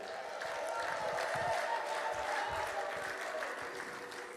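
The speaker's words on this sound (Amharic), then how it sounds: "ኧረ ለዚህ ጌታ እልልታ፣ ጭብጨባ።" A church congregation applauds and ululates in praise during a sermon, producing a steady, dense wash of clapping from a crowd with faint voices blended in throughout.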